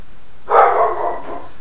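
A young puppy gives one loud, close bark that trails into a brief yelp indoors near a door, then falls quiet.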